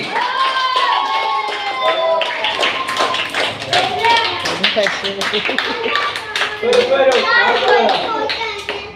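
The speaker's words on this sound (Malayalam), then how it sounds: "നമുക്ക് നല്ലൊരു കയ്യടി കൊടുത്തിട്ട് മാഷ് സ്വീകരിക്കാം" Applause at a magic show inauguration, with a crowd clapping in dense, lively rapid claps under excited chatter and children's voices, loud and close throughout.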